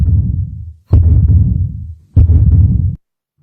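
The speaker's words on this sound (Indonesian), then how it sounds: "suara jantung berdegup" A heartbeat sounds as deep, muffled low-pitched throbs, loud and close, in slow repeated pulses with no talking.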